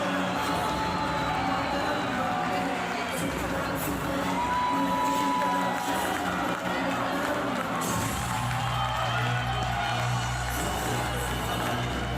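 Crowd at the Wagah-Attari border ceremony between India and Pakistan, with a dense, continuous roar of many voices cheering and shouting, loud and sustained throughout.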